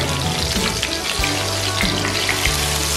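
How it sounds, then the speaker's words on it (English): Pork ribs searing in a hot pan for a second batch, a loud, dense, continuous sizzle with a low hum underneath, close and steady from start to finish. "So we'll just start by searing up the second batch"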